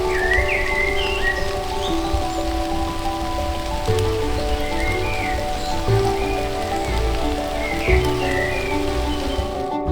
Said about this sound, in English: Birds singing, rain tapping on the leaves.